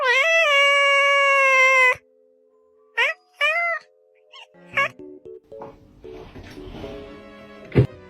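A cat gives a long, loud, drawn-out meow up close, followed by a few shorter chirping meows mixed with small jingles and quiet noises.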